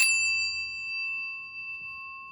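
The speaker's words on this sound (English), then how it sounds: "let's ring the bell" A single bright bell is struck once and rings out with a clear, sustained metallic tone that slowly fades.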